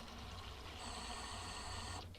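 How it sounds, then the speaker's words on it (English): Filtered water runs quietly and steadily into a cooking pot for boiling a holiday ham, a soft continuous trickle whose pitch climbs briefly as the pot fills before stopping near the end. "Now I'm going to fill it the rest of the way with filtered water that we have here."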